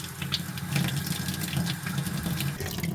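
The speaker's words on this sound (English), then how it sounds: "Let's just let some of the air out of the lines." Water rushes steadily from a tap as air is purged from the lines of a switched-off tankless water heater, a continuous close hiss and splash with no pauses and no talking.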